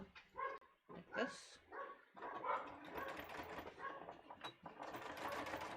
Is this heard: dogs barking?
yes